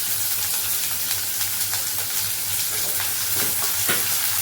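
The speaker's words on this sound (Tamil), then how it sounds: "இந்த வெங்காயம், பச்சை மிளகாய் 2த்தையும் போட்டு கருவேப்பிலையும் போட்டு நல்லா கொஞ்சம் வதக்கிடுவோம்." Onion, green chilli and curry leaves are sautéed in hot oil for egg masala, with a steady close sizzle and repeated stirring strokes and no talking.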